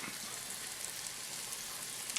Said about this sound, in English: look at them sizzle up under there